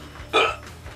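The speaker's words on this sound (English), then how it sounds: "we've got the hiccups" A single sharp hiccup bursts out near the middle, loud and close, then fades quickly into quiet background.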